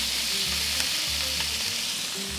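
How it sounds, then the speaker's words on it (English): Garlic cloves and tomatoes fry in a pot with basil, giving a steady, close hiss and sizzle with faint stirring clatter throughout and no talk. "now I'm going to put in my garlic cloves, tomatoes"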